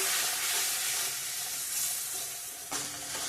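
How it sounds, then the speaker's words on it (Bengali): Ground cumin, coriander and chili powder masala frying in oil for an egg and potato curry, a steady bright sizzle with stirring scrapes throughout, close and continuous, with a sharper burst of sizzle near the end. "জিরে গুঁড়া ধনিয়া গুঁড়া লঙ্কার গুঁড়া সব এক করে দিয়ে দিলাম ভালো করে কষিয়ে নেব মশলাটা"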